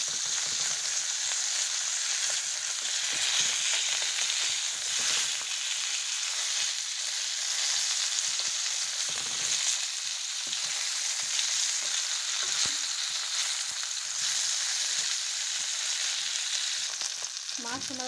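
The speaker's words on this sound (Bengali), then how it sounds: "মাছগুলো আমি উল্টিয়ে দিচ্ছি" Pabda fish fry in hot oil with a dense, constant sizzle that runs unbroken throughout, close and loud, as the pieces are turned over with no talking.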